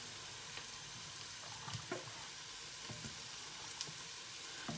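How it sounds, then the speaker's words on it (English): Pepper water with tamarind is stirred in a pot on the stove: quiet scrapes and light clinks over a steady soft hiss of liquid heating, no voices. "let's have a quick stir."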